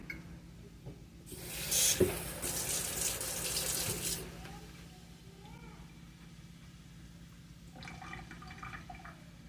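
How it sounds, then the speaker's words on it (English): Water runs from a kitchen tap into a pan of butter-coated stir-fry vegetables, a close, fairly loud gush for a couple of seconds that then fades into quieter room noise. "I add a little bit of water."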